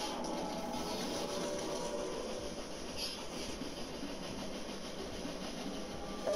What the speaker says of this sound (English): Hey, we're on the train, dude.